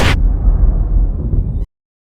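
A single firecracker goes off with a loud, close blast, followed by a rough rumbling roar that holds for about a second and a half and then cuts off abruptly into silence.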